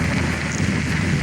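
Steady rain falls in a dense, even wash with a low rumble of wind underneath, continuous and fairly loud throughout with no voices.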